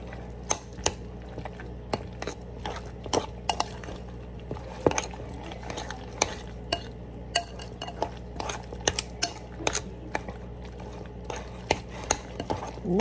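Cream cheese being mixed and smooshed against the side of a bowl for keto meatloaf cups, heard as repeated close scraping and clinking of a utensil on the dish in an irregular rhythm, with no talk.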